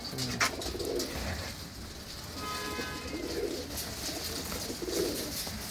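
Red Cheena pigeons cooing softly, three low throaty coos spaced about two seconds apart over a steady outdoor hiss.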